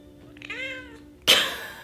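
A cat gives a drawn-out meow close by, followed by a sudden broadband rustle or thump.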